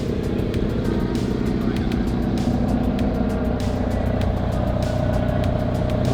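A Mazda Miata exhaust rumbles close by, a deep steady burble punctuated by regular sharp crackles and pops, loud and unbroken, with no talking.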